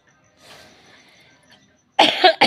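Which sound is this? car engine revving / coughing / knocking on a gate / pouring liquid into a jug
coughing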